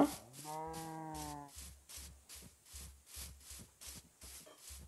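A cow in the Minecraft video game lets out one drawn-out moo near the start, followed by a repeating rhythmic pattern of game footsteps or music, close and fairly loud with no voices.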